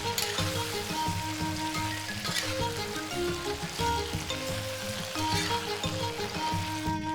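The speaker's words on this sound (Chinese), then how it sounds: "翻炒均匀。" Duck feet stir-fried in a wok with oyster sauce, cooking wine and soy sauce, giving a steady close sizzle and hiss with scraping stirring and clanking under background music.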